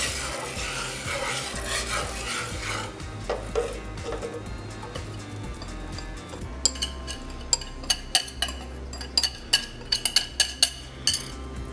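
Cheese sauce for autumn mac and cheese is stirred in a pot on medium-low heat, with a soft scraping swish at first and then a run of sharp metallic clinks as the utensil repeatedly taps the pot.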